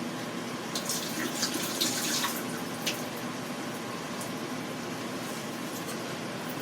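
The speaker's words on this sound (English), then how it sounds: "Drain these green beans." Liquid from a can of green beans drains away while hamburger soup is being prepared, a soft, continuous trickle and splash with a few brief clinks, fairly quiet and with no talking.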